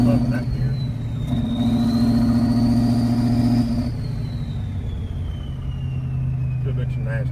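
A Ford 7.3 Powerstroke diesel truck idles loud and steady with a rising and falling whine during a burnout, heard close, with people talking over it.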